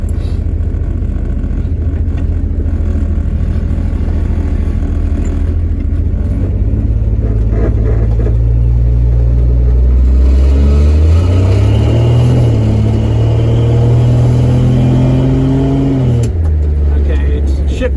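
A 1966 Dodge Dart GT with a Super Six two-barrel carburetor and electric choke, its engine rumbling loud and close as it accelerates, revs climbing and dropping through automatic upshifts under moderate throttle.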